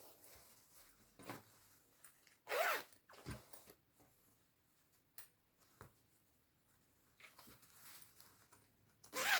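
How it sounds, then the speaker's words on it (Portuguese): Several quick zipper pulls, short bright rasping bursts separated by quiet gaps, with one longer zip near the start and another at the end. "Eu abro o zíper."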